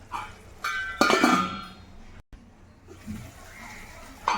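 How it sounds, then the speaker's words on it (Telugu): A metal lid clanks down onto a cooking pan in a kitchen where spinach with garlic is cooking, giving a few close clinks and a rattle, with no talk. "సో ఇప్పుడైతే మూత పెట్టుకుందాం."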